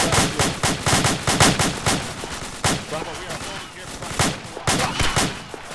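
Rapid bursts of gunfire peppering a rock on a hillside, sharp repeated cracks in quick clusters with brief pauses, loud and close with no talk.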